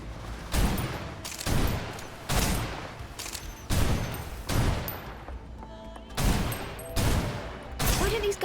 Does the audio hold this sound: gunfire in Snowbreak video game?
yes